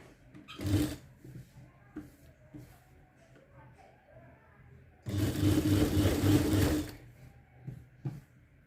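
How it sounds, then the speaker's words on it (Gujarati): A sewing machine edge-stitches along the lining of a blouse: a short stitching spurt, then a steady, louder run of about two seconds, heard close with no talking. "હવે આના પર અસ્તર ઉપર ધાર સિલાઈ આપી દઈશું"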